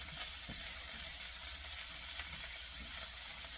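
Vegetables and broken-up ginger sizzle in a hot pan for fried rice and are stirred together, giving a steady close frying hiss with soft scrapes of stirring and no talk.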